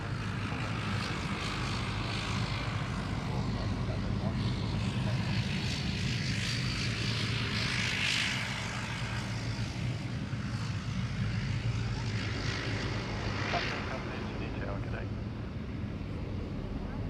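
Steady, loud roar of a passenger aircraft at Sydney Airport, with propeller and engine drone sustained throughout, slight swells as it moves nearby, and wind buffeting on the microphone.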